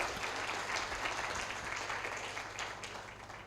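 Audience applause at a public conference lecture, a steady dense patter of many hands clapping throughout, fairly faint and distant with no talk over it.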